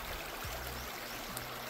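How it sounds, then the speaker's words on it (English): Small creek running steadily outdoors, a continuous close, even wash of flowing water with no other sounds over it. "Pretty little creek."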